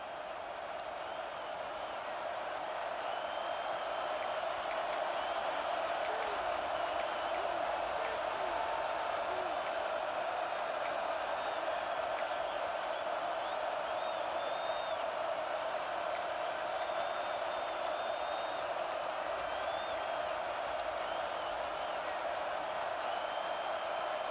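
Steady roar of a stadium crowd at a college football game between Washington and Ohio State, a dense continuous wall of noise with faint whistles and shouts rising through it.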